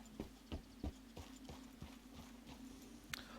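Horse hooves clip-clopping in the video game Red Dead Redemption 2, a steady walking rhythm of about ten distinct hoof strikes over a faint low hum, quiet and unaccompanied by talk.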